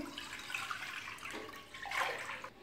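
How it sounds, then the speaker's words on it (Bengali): One litre of milk pours from a container into a cooking pot on a stove, a steady liquid splash and gurgle running throughout, swelling briefly near the end before stopping. "তার মধ্যে এক লিটার দুধ ঢেলে দিচ্ছি"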